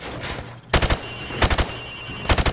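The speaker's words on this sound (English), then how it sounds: "Now, shoot at the targets while firing from the hip." Rifle fired from the hip at targets on a training range in Call of Duty 4: Modern Warfare Remastered, heard as three quick bursts of several sharp, loud shots each, with short pauses between bursts.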